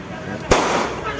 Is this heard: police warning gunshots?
yes